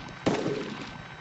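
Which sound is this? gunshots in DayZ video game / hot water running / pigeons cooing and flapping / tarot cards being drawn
gunshots in DayZ video game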